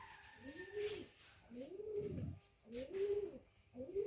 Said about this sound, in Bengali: আমার বাড়িতে না কবুতর আসছে তুমি ডাক শোনো তোমরা